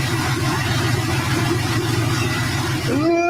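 Car engine with Dynamax headers, catalytic converters and 4.5-inch Stinger mufflers, a deep, throaty rumble held at a steady rev, loud and close, dropping sharply near the end.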